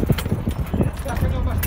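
An Arabian colt ridden bareback, its hooves clip-clopping in a quick, uneven patter close by, with wind or rustling noise and someone talking over it.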